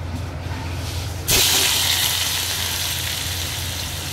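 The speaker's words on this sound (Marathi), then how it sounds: "दोडका टाकायचा आणि मस्त आपण फ्राय करून घ्यायचा आहे." Stuffed ridge gourd dropped into a hot kadhai of oil bursts into a sudden loud sizzle that then settles into steady, even frying.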